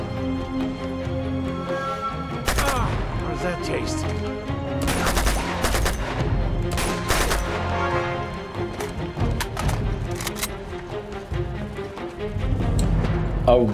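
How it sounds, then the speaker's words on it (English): Three-round burst rifle fire in Uncharted 2: Among Thieves, with repeated sharp clustered shots over a busy game soundtrack, loud and close, without talk over it. "this gun has a three-round burst"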